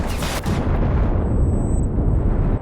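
A deep, rumbling explosion in the video game Enlisted, during the Normandy landings, booms and then rolls on as a sustained low roar, loud and close, with no voices over it.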